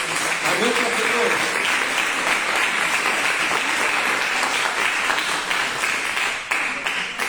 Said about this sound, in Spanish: Denle un fuerte aplauso a nuestro Señor.